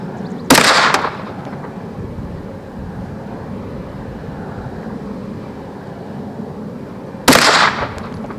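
A Canik TP9 SFX 9mm pistol fires two loud, sharp shots at an outdoor range, several seconds apart, each ringing out briefly over quiet background noise.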